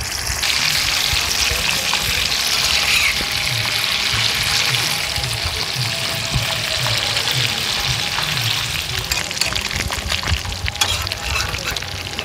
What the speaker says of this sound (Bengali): একদম কড়া ভাবে ভাজা হবে ডুবো তেলে যেটা বলে আর কি ছাকা তেলে সেই ভাজাটা হবে